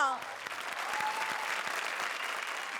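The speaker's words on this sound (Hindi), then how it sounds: "जोरदार तालियां।" Studio audience applause on a Hindi comedy show stage, steady dense clapping filling the clip at moderate loudness after a brief opening voice.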